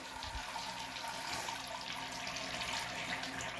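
A toilet tank refills with water after a new flush seal gasket is fitted, a steady broadband rush and hiss of running water that holds evenly throughout.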